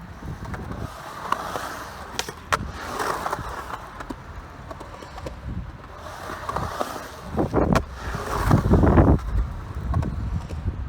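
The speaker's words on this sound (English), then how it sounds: "let's do a few more kick turns and let's try a different angle and see what it's looking like" Skateboard doing kick turns on a wall, with repeated scrapes and sharp clacks of the tail and wheels, loudest toward the end, over outdoor wind noise.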